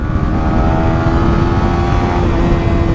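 A Yamaha R15 V4 motorcycle engine revs steadily and loudly up close, holding a sustained droning pitch for three seconds with no pause, as its VVA variable valve system engages.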